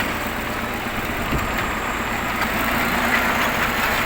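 A heavy diesel engine of a T-150 crawler tractor idles steadily nearby, a low continuous rumble with faint clatter and a few small knocks, no talking.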